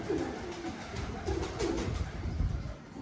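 Soft, low pigeon cooing close by, repeated a few times over a steady background hiss.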